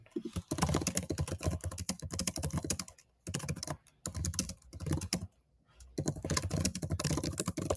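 Rapid typing on a computer keyboard, a dense run of close, crisp key clicks in bursts separated by short pauses, with no voices.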